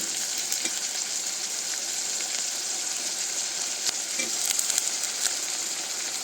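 Eggplant pieces fry in a pan with a steady, dense sizzle, adding drumsticks and sweet potato, with a few faint clinks and stirring scrapes rising near the end; close and continuous, no voices.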